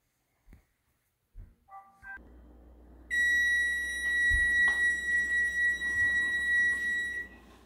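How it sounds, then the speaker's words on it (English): An oven timer goes off while banana chocolate chip muffins bake, a loud, high, steady electronic beep tone that sounds continuously for about four seconds after a few soft clicks and button presses. "Okay, so the timer's gone off for halfway through"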